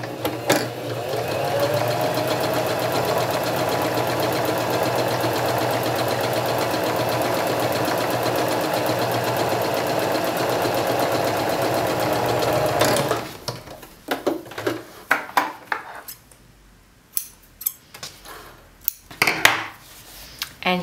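Sewing machine running steadily as it top-stitches a mock fell seam a quarter inch from the stitch line, a continuous close whirring hum for about thirteen seconds, then stopping and giving way to scattered handling clicks and rustles.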